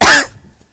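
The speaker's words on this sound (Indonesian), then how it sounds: "sampai batuk tuh" A single loud, close cough from a member of an audience at an Islamic sermon, one sharp burst that quickly fades into quiet room tone.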